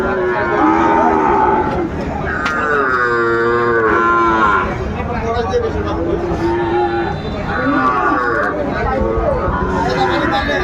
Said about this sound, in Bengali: গরুগুলা সুন্দরভাবে এক পিস এক পিস করে আমাদের দেখাবেন সাবুর ভাই